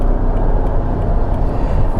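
Mercedes SL55 AMG V8 engine running steadily as a loud, continuous low rumble heard from close by, with no talk over it.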